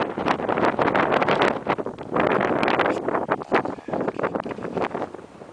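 Strong wind buffets the microphone in constant roaring gusts high on a hillside in the Brecon Beacons, loud and rough throughout with no voices.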